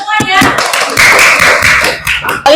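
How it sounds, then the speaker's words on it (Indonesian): Students in a classroom clap their hands together in a loud, close burst of quick, uneven claps that runs the whole time, with voices mixed in beneath them. "kita tepuk tangan untuk semuanya"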